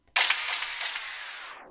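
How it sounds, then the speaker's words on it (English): A single sharp gunshot effect from an FL Studio beat bursts out, then trails off in a long, bright, hissing decay. "there is some effects before the hook, like the gunshot"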